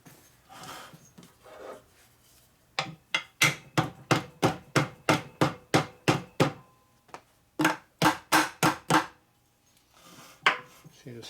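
Steel hammer blows against a part of a Dayton 240V 7-1/2 hp air compressor motor, struck in two quick rhythmic bursts of about a dozen and then six sharp metallic knocks, close and loud, with no talking.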